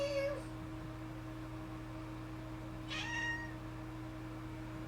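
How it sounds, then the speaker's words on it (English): A cat gives two short, faint, squeaky meows a few seconds apart over a steady low hum in a quiet room. "What is with that fucking pathetic meow?"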